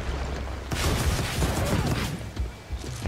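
Bursts of gunfire aimed at the player in the inFAMOUS Second Son video game, dense and loud after a brief quieter start, with impacts and crashes mixed in and a voice briefly heard.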